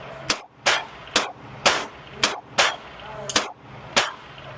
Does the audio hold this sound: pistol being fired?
yes